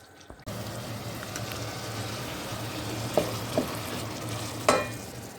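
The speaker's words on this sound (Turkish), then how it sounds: "Hemen havuç ve soğanlarını içine ekleyeceğim. Kavurmaya başlayacağım." Carrots and onions hit hot olive oil with a sudden onset of sizzling that settles into a steady fry, punctuated by a few sharp spoon clinks against the pan, fairly quiet and without voices.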